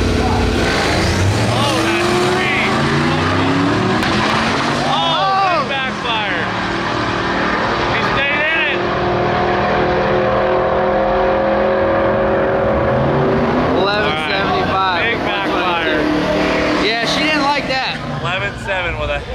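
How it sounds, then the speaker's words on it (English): Drag race car engine at Sick Drag Week revving hard with sputtering, stuttering bursts as it hits the rev limiter or boost cut, loud and continuous under people talking. "might have hit the rev limiter or might have hit our boost safety"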